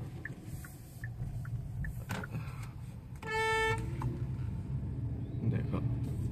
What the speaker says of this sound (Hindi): अब यहाँ पे हम अगर हॉर्न ना मारे ना, ये चाचा हमको साइड ही नहीं देंगे।